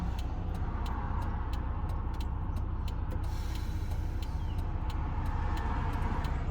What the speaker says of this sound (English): there's too many cars.